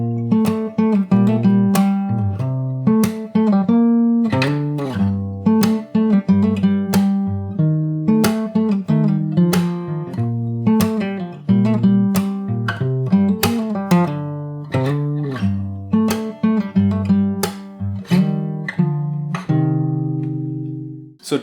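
Second verse of a song on fingerstyle acoustic guitar: rhythmic plucked melody over bass notes with regular percussive hits, close-miked and steady, closing on a sustained ringing chord, no voices.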